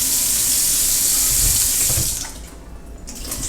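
Warm water runs steadily from a kitchen tap over ackee being rinsed for Jamaican ackee and saltfish, a loud constant rush that cuts off near the end with a few faint splashes.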